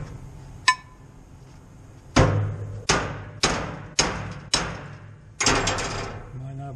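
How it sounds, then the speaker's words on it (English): A hammer strikes welded steel six times in a row, sharp ringing clanks with short decays, the first lighter and the rest heavy and evenly spaced. "Now let's take a hammer, break it off, and see what kind of penetration we got."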